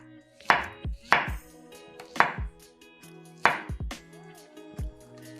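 A single banana being sliced with a knife on a cutting board, five or six crisp, close chops in an uneven rhythm with short pauses between strokes, no talking.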